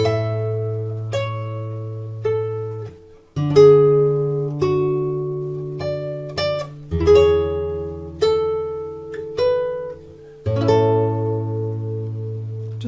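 Fingerstyle acoustic guitar picks out bars 5 to 8 of a melody, opening with a pickup, with plucked melody notes over sustained bass notes in a steady, moderate rhythm, close and clear with no talking.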